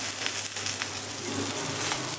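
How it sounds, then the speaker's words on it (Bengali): Eggplant fries in oil in a pan, a moderate, continuous sizzle with faint crackling spits heard close by. "বেগুন দিয়েই ভাজা হয়ে যাবে।"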